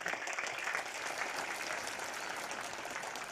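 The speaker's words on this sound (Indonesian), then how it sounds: "tepuk tangan untuk kalian semuanya" A crowd applauds at an annual school assembly at the Darunnajah boarding school, sustained and even clapping heard from a distance, with no talking over it.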